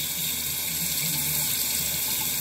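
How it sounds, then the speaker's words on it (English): Tap water runs steadily into a bathroom sink during a nighttime face-washing routine, a continuous even splashing rush with no talk over it. "Right now I'm just washing my face and just stamping my hands with some water."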